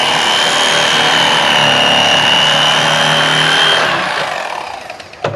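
Loud, steady high-pitched buzzing of a Mister Twister Electric Fisherman fillet knife motor cutting fish for several seconds, then winding down and stopping with a faint click.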